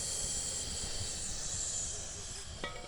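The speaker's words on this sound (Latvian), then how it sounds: "Vārās makaroni" Pot of macaroni boiling, giving a steady broadband hiss and bubbling rush that runs throughout, with a brief clatter near the end.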